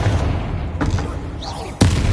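Spell blasts in a Hogwarts Legacy battle on PS5: two sharp bursts cut through busy combat noise, with a heavier low boom at the end.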